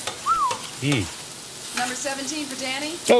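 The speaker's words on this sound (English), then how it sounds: "Look at that sizzle." A hot sub cooks on a sizzling grill at Jersey Mike's with a steady, soft frying hiss close by, partly under voices talking.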